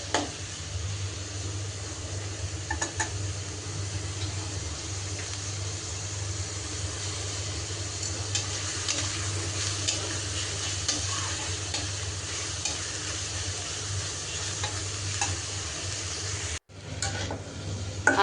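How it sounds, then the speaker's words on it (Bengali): Onions frying in a pan for hilsa fish dopiaza, with a cauliflower and potato fry stirred alongside, give a steady close sizzle under a low hum, with scraping stir strokes now and then and no talk. "আর এদিক দিয়ে মাঝে মাঝে আমি ভাজিটাও নেড়ে চেড়ে দিচ্ছি"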